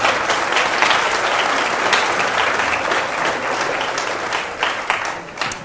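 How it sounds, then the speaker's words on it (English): An audience at a community fundraising event in Birmingham breaks into sustained applause, a dense, steady wash of many hands clapping that carries on for several seconds and slowly tapers off. "Let's give them a round of applause."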